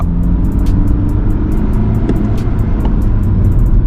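A BMW F30 LCI diesel saloon accelerates on a night drive, a loud, steady low engine drone with road rumble heard from inside the cabin, continuous and without talk.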